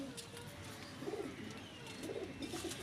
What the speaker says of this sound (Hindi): एक क्लास कबूतर है